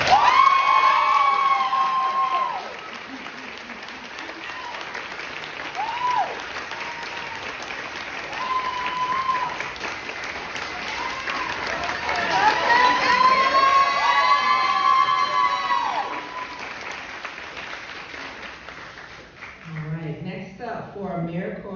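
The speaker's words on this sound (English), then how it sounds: "Let's clap it up for Catherine." Audience at the Wisconsin 2024 Governor's Service Awards ceremony breaks into loud, sustained applause with cheers and shouts, swelling midway and dying off near the end; voices and whoops ride over the clapping throughout.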